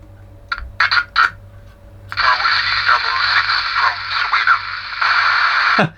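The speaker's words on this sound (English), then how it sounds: "There's a Swedish station out there." Old Uniden Uniace 200 CB radio picking up a Swedish station: a few brief crackling bursts, then a steady band-limited hiss with faint voice-like modulation carrying through to the end.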